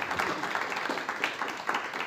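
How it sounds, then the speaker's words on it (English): A live audience claps for two presenters at an animation conference session, a moderate continuous patter of hands over a couple of seconds with slight swells. "once again, a big applause for Dirk and Lucy"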